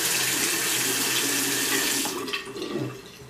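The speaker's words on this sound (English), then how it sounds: "I'm actually gonna wet my face real quick" A bathroom tap runs steadily and loudly up close as water splashes into a sink for face washing, the flow easing and breaking up near the end.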